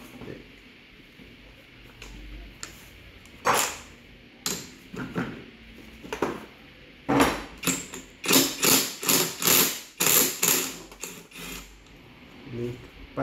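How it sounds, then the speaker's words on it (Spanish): An impact screwdriver struck repeatedly works on the clutch of an Italika 150cc motorcycle, with sharp metallic knocks that speed into a quick, close series of hits. "Empezamos el destornillador de impacto."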